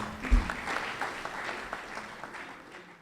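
Light audience applause at an Urdu poetry recital (mushaira) in Bahrain, moderately soft and fading out over a few seconds, with a low murmur of the crowd beneath.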